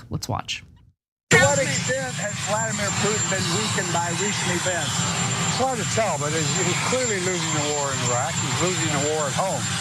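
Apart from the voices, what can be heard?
helicopter in the background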